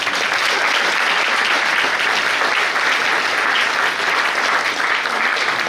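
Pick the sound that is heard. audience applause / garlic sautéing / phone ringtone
audience applause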